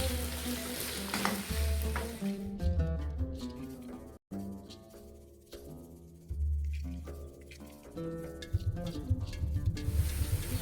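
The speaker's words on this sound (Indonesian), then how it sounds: "Sekarang kita akan goreng bawangnya dulu" Onions sizzling and crackling in hot oil for Persian ash reshteh, with occasional stirring scrapes in the pan and a short pause partway through.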